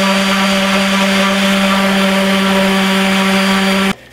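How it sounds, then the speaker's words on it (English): Random orbit sander smoothing the tang of a handmade knife blade, a loud steady whine with a constant buzzing hum that runs close and alone for about four seconds, then cuts off abruptly. "clean up the tang of the knife with a random orbit sander"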